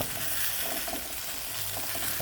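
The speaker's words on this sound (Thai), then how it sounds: "คั่วใส่น้ำมันหน่อยใส่กระทะเทฟลอน" Food sizzles steadily in hot oil in a Teflon pan, with scraping stir sounds throughout, close and fairly loud, no talking.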